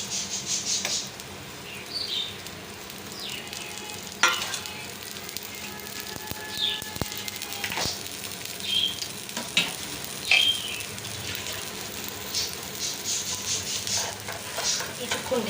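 Food fries in oil in a pan, a faint steady sizzle with scattered crackles and pops, while someone speaks quietly now and then.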